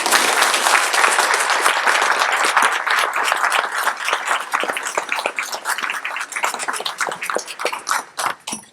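Audience claps for Lieutenant Jones after his talk on mental illness, loud dense applause that gradually thins into slower, scattered claps near the end.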